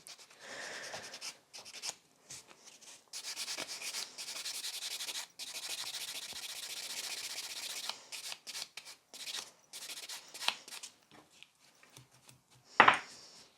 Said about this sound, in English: I love this buffer as well, because I tend to quite, like the way I'm filing it